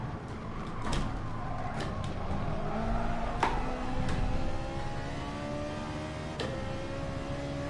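Ferrari 458 GT3 race car engine at Autopolis in a racing game, a steady, loud high-revving drone with shifting pitch through acceleration and gear changes, brief sharp clicks of upshifts cutting in.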